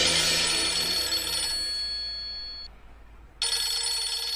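A telephone ringtone plays loudly and continuously, cuts out for under a second, then rings again, with no voices.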